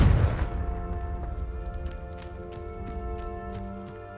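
A Confringo blasting spell goes off in Hogwarts Legacy as one loud burst, then a ringing, tonal decay that fades over several seconds while faint clicks and pops come through.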